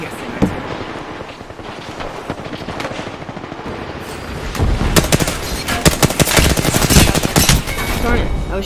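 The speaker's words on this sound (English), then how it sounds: "I was shooting them" Rapid video game gunfire rattles in dense bursts, growing heavier and louder in the second half, with a voice faintly underneath.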